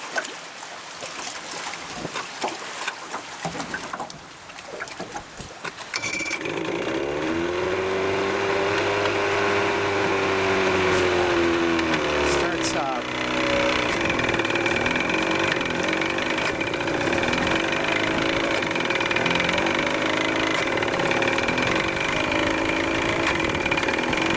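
An outboard boat motor, unused for over a day, is started with a key turn after some handling noise, then settles into a steady, loud idle that runs on for the rest of the time with a faint trickle of water.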